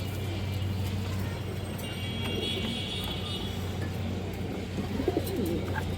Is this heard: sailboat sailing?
no